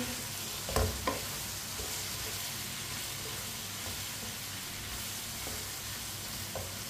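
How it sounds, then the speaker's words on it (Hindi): Cut onions go into a hot pan for tinday sabzi and are stirred, giving a faint, steady background sizzle. A single clunk and spoon scrape come near the start, with no talking. "कटे हुए प्याज डाल लेंगे। मिक्स कर लेंगे।"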